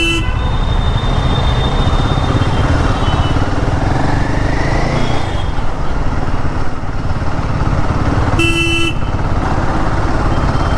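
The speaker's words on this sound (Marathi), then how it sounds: "पाहू शकता हे आहे मुंबईचं ट्रॅफिक" Busy Mumbai road traffic passed on a Himalayan 450 motorcycle, with a constant engine and road rumble and loud, bright horn toots near the start and another sharp honk burst late on, no talking.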